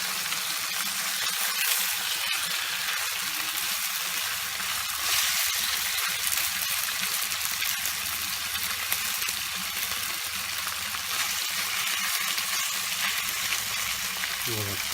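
Marinated chicken with vegetables frying in a pan, a loud, dense and continuous sizzle with a crackling hiss that holds steady, with occasional low stirring sounds beneath.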